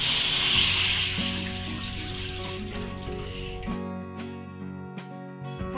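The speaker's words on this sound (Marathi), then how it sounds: "याच्यामध्ये ना मी पाणी घालते 1 पातेलं" Water is poured into a hot kadhai, starting with a loud hissing sizzle and rush that fades after a few seconds into a quieter simmer and then near silence.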